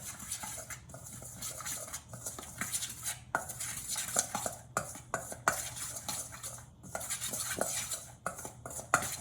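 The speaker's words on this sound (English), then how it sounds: "mix these two ingredients first so that the starch won't get clumpy later" Ingredients stirred together with starch in a bowl, heard as close, quiet clinks and scrapes of a utensil against the bowl in an irregular rhythm, with no voices.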